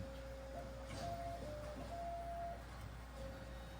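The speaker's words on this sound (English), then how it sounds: "it'll just keep going back and forth. It takes about 10 or 15 minutes to completely print the sheet." A large UV inkjet printer working at 2160 dots per inch, its print head shuttling back and forth across a sheet with a faint whining motor tone over a steady low hum, quiet and close.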